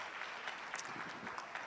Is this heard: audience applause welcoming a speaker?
yes